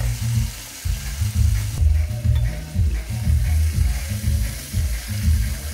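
Beef sirloin browns in a hot frying pan, giving a steady sizzle that runs the whole time under a loud, rhythmic low thumping.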